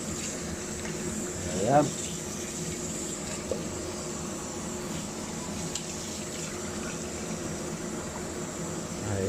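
Hot water runs and splashes steadily while pork is washed, a continuous hiss with a brief louder gush early on, as a person speaks a word.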